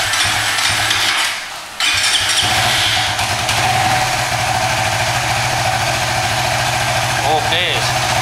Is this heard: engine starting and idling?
yes